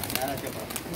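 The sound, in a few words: pigeon cooing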